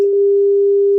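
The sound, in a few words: phone call tone, not ringing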